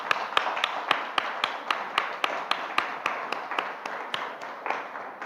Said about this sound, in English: if you would join me in a round of applause for the team